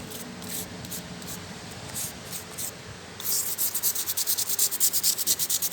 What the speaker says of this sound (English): Get that just roughed up a little bit in there so I can spray it out.